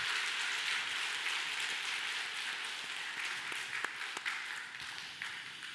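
A church congregation at a Sunday service claps together for God, a dense, even patter of applause filling the room and holding steady at a moderate level without any voices.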